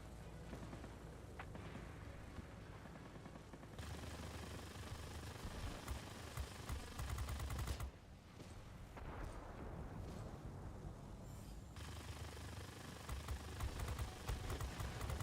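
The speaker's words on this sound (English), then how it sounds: "Who the hell's shooting at me?" In World of Warplanes, gunfire aimed at the player's plane rattles in rapid bursts over a constant roaring engine drone, with booming impacts at intervals. The sound is dense and stays fairly even throughout.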